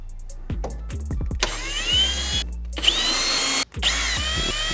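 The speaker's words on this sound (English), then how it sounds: "now with our T25, we're going to release all these little T25s here so that we can get the heat shield off" A power driver whirs in repeated short bursts, spinning out small T25 screws from the rear heat shield of a 2017 Audi R8 V10 Plus, loud and close, with brief pauses between screws.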